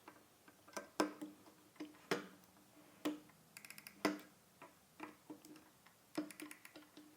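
A torque wrench clicks as scope mount screws are tightened to 45 inch-pounds on an Area419 one-piece tactical mount holding a Zco 420 scope: sharp, quiet clicks about once a second, some in quick pairs, in a silent room.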